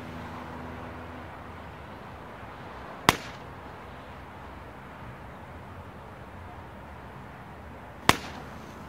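Two sharp, loud shots from a CZ-style rifle, a CZ Ebony .223, fired from a Javelin bipod during fox control at 60 to 70 yards outdoors, spaced about five seconds apart over steady ambient background noise.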